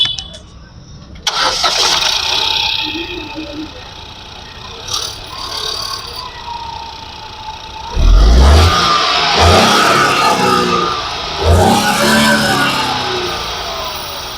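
A 2013 Ford EcoSport Titanium petrol car cranks and fires up, then settles into a steady idle close by, with a brief rev and some talk in between.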